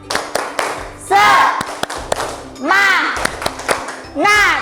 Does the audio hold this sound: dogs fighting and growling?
no